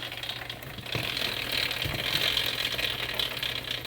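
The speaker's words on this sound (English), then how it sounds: "Let's jack it up and see." A car jack ratchets steadily as it lifts a vehicle to check a bent rear brake rotor, a faint run of close mechanical clicks over a low hum.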